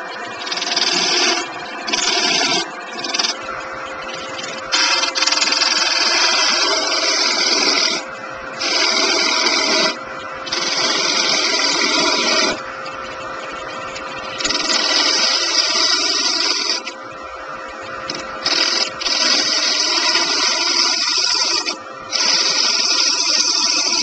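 Wood bowl turning on a lathe with a 3/8 inch detail gouge with an Ellsworth grind, the motor humming steadily while the tool cuts in repeated bursts of loud, close scraping and shaving with short gaps between.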